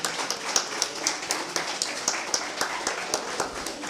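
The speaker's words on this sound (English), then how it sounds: "I think he deserves a bigger hand of applause" A quiz-show audience claps for the Brainiacs champion, a steady run of sharp, individual hand claps at moderate distance, sounding like a modest crowd rather than a roaring one.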